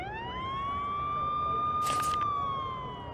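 A steady electronic siren tone holds loud and close, rising slightly then easing off, with a brief burst of hiss in the middle: a siren cue in the video game Nancy Drew: The Phantom of Venice.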